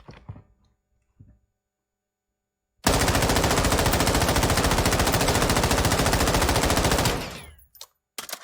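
Automatic weapon firing in Warzone 2.0, a single sustained burst of rapid, evenly spaced shots lasting about four seconds and ending abruptly, after a few quiet clicks.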